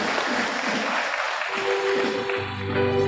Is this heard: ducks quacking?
no